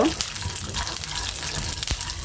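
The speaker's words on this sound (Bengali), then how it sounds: "আমি এটা ভেজে নিব আমি ঘির সাথে এখন ভালোভাবে ভেজে নিচ্ছি" Raisins and nuts fry in ghee with a steady close sizzle and crackle, a few sharp pops breaking through the constant hiss.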